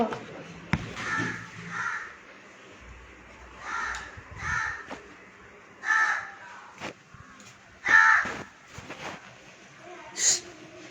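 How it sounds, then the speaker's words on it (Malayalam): A crow caws several times at irregular intervals, moderately close, with short harsh calls spaced a second or two apart over quiet background noise and occasional soft sounds nearby. "കാക്ക എന്നെ വിളിക്കുന്നു."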